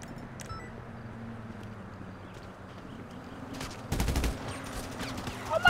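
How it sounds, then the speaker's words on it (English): In GTA 5 Online, another player fires at close range: scattered faint shots early on, then a loud burst of rapid gunfire about two-thirds through, followed by more shots. "He's still shooting me."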